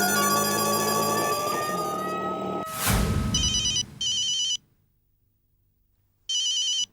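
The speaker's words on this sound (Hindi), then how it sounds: "जेठालाल का फोन" A telephone rings in repeated electronic bursts, a loud trilling tone that comes in clusters with a short silent gap between rings, preceded by background music and a brief whoosh effect in a sitcom scene.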